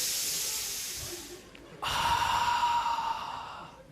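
A deep breath taken in a comedy stage piece: a long airy inhale fading over about a second and a half, followed by a stronger, steady hissing exhale, close and clear with no talking.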